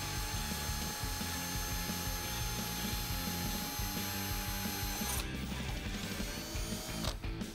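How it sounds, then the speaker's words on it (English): A power drill cuts a pilot hole in a Jeep Wrangler door, running as a continuous high whine close to the mic, then slowing and stopping near the end. "So now we're going to drill a pilot hole before we go in with our step bit."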